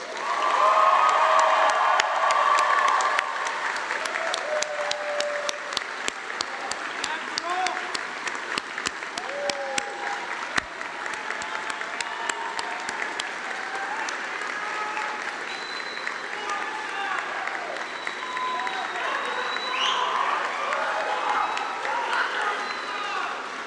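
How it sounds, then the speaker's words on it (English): Sustained audience applause at a medical school white coat ceremony, loud at first with scattered cheers, then settling into a long, even clapping from a large crowd. "Please, huge round of applause."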